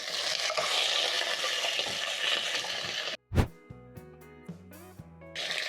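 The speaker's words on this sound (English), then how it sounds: "Flip so that the other side can sear." Beef ossobuco searing in a pan, a dense loud sizzle that drops out briefly, then a sharp knock and a few tonal metallic clinks before the frying resumes.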